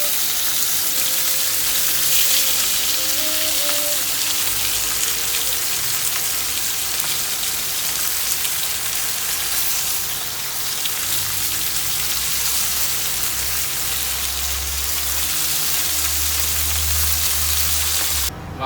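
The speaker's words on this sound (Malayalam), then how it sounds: "ആവോലി ഫ്രൈ നമ്മളിപ്പോൾ പൊരിച്ച് കഴിഞ്ഞ്, ഇതാണ് ആവോലി ഫ്രൈ" Pomfret fish frying in a pan of hot oil, a continuous loud sizzle and crackle with occasional faint tonal clinks, no talking.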